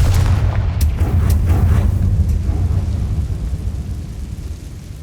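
The Confringo blasting spell from Hogwarts Legacy detonates in a loud, booming explosion, with a heavy low rumble and crackling bursts that slowly decay over several seconds.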